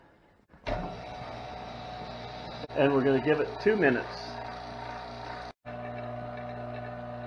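A Harvest Right freeze dryer's vacuum pump switches on and runs as a steady droning hum with a tonal whine, briefly cutting out near the end, while someone talks over it.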